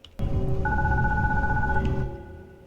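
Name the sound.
telephone ringing in the video game Glitchpunk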